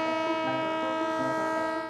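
A high-speed passenger train sounds loud and close for about two seconds, with a strong sustained horn-like harmonic tone layered over a steady rumble.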